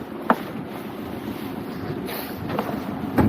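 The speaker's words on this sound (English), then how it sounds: "This is the trouble with the wind, you see." Wind buffets a microphone aboard a small fishing boat on the water, a rough, steady rumble with a few sharper gusts and thumps, no voices.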